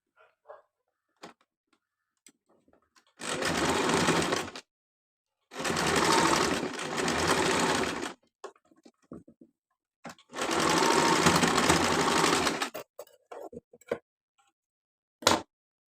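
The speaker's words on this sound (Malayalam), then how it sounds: "ഇവിടെ നമുക്ക് സ്റ്റിച്ച് ചെയ്ത് കൊടുക്കാം" An electric sewing machine stitches the shoulder seams of a simple frock, running in three close, steady bursts of whirring separated by quiet pauses and faint handling clicks. No voices.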